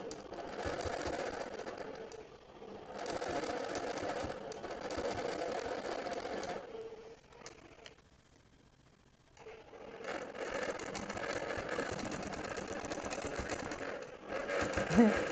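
A longarm quilting machine stitches in the ditch around appliqué letters, running in long steady bursts of rapid mechanical whirring with a brief quieter pause in the middle before it picks back up, close and continuous.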